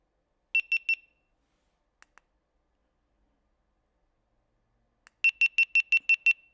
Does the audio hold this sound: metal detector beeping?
yes